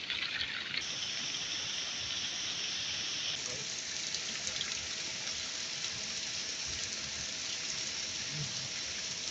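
Continuous rushing hot spring water flows steadily, a constant bright hiss with no voices, like a stream or outlet pouring nearby.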